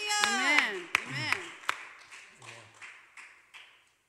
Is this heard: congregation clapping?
yes